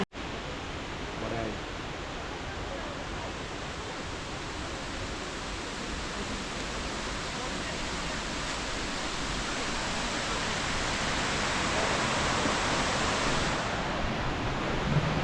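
A constant roar of rushing, falling water from Rani Duduma Waterfall in Koraput, Odisha, fills the scene, broad and unbroken, growing slightly louder toward the end.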